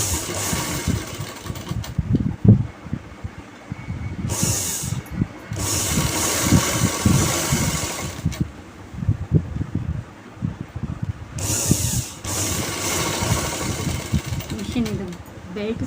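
A sewing machine with a slightly loose belt runs in steady, whirring bursts that stop and start several times during side-cut stitching, with a low mechanical hum and rattle close to the microphone.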